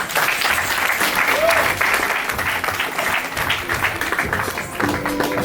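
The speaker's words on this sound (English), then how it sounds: "Give the Pandavas a round of applause." Audience applauding the Pandavas during a humorous kirtan lila drama at a Janmashtami celebration: steady, dense clapping from a crowd lasting throughout, fairly loud and continuous.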